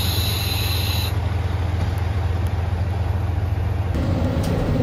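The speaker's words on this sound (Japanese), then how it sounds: "来ました、こちらがいさりび鉄道です。" A Dōnan Isaribi Railway train pulls into a station with a steady low rumble and a faint high-pitched squeal. The squeal stops partway through as the rumble carries on, and there is no speech.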